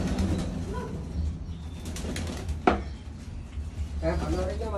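Pigeons bathing, with splashing and brief wing flaps close by, a sharp slap midway, soft cooing, and a person talking at points.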